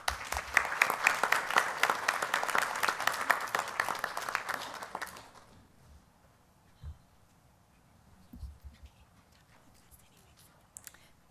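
A panel audience at a symptom management session claps for its panelists, dense applause that carries for about five seconds and then cuts off, leaving a quiet room with a few faint thumps.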